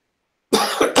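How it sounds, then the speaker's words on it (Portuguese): A single sharp cough bursts out after a half-second of silence, followed by a brief second throat-clearing cough, close and loud. "Desculpem a tosse"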